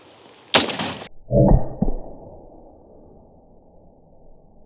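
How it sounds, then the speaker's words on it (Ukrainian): An AR-15 rifle fires a single combat round at a class 6 ceramic armour plate, one sharp, loud crack followed by a heavy thud and echoing tail that fades into quiet. "розпочнемо стрільбу з АР-15"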